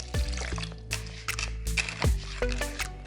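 More water trickles and splashes into cornmeal for arepa dough. Soft, close liquid pours and squishy drips come in uneven little spurts, with a faint tonal hum behind them.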